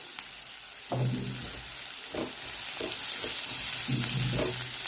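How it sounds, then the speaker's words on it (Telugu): Finely chopped garlic and onions fry in ghee in a pan, giving a steady close sizzle with a few brief stirring scrapes and crackles, no talk. "వెల్లుల్లిపాయలు, ఉల్లిపాయలు ఇవి వేసుకొని వేయించుకోవాలి"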